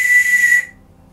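A short blast on a chromium-plated English police whistle: a loud, shrill, steady tone held for about half a second, then cut off abruptly, close and alone.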